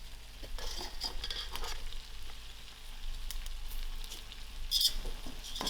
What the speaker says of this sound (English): I'm just going to throw in my mixed veg. And I give this a good mix.